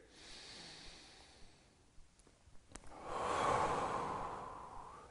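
A deep breath drawn during a yoga stretch, quiet and close: a soft inhale, then a fuller, breathy exhale swelling and fading over a couple of seconds, with no talking.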